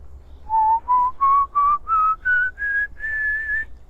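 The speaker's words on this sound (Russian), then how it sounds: "очень легко получается свист" A person whistles a rising scale of eight clear, separate notes, each a little higher than the one before, with the last note held longer. The whistling is close and alone against a faint low hum.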